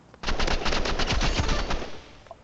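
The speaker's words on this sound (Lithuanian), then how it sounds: "O, jie šaudo." Rapid gunfire from the video game RIVALS, a loud, dense burst of repeated shots lasting about two seconds before cutting off, with no talk over it.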